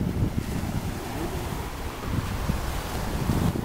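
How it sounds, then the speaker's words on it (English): Ocean waves washing onto a beach, a steady broad rush of surf mixed with wind buffeting the microphone, continuous and fairly close with gentle swells in loudness. "Let y'all listen to the waves and the sound of the water."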